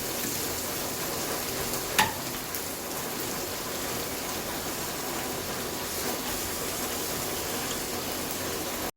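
Onions frying in a pan for a Kerala-style chicken roast, a steady even sizzle with one brief tap of a utensil early on and a sharp click at the end.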